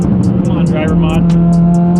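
A 700 whp Mitsubishi Evo engine revving hard up to the rev limiter, a loud sustained engine roar with a rapid repeating stutter as it bounces off the limiter.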